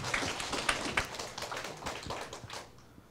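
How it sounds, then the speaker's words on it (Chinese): Applause from a class audience welcoming a speaker at a political lecture session, a scattered, uneven patter of individual claps, fairly close and thinning out toward the end. "请大家以热烈的掌声欢迎"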